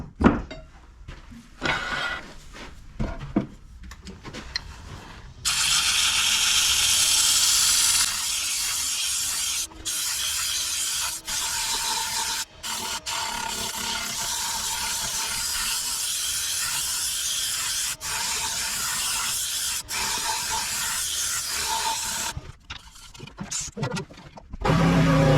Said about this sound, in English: sounds to me like it's time for sanding